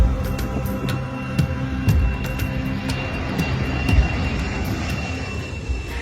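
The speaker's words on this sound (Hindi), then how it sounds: "फिर विमान 8000 किलोमीटर से भी ज्यादा लंबी उड़ान भरते हुए भारत के लिए निकल पड़ा" An airplane carrying cheetahs on a long flight to India sends out a loud, steady engine roar that drones evenly throughout, with faint pulsing in the hum.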